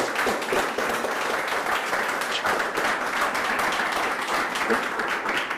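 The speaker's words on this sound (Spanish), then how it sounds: "Bueno, un aplauso a Rodrigo." A room full of people applauding after a talk, a continuous, fairly loud burst of clapping that stays even from start to finish, with no speech heard over it.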